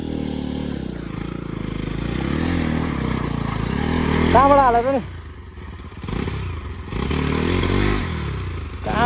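A Bajaj Pulsar NS200 motorcycle revving and straining as it climbs over rocks on a rough off-road trail, engine pitch rising and falling with loud bursts of throttle, with people talking over it nearby.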